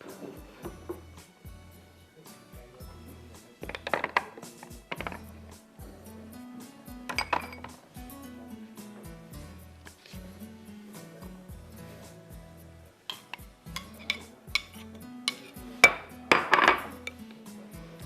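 Yogurt being stirred into chicken dumpukht biryani in a pot, heard as a steady run of spoon clinks and scrapes against the metal pot with occasional louder knocks, close and without talk.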